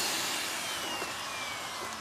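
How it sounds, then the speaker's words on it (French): A vacuum cleaner runs steadily and loudly, a dense whooshing roar with a thin high whine over it. "Tu passes aspirateur?"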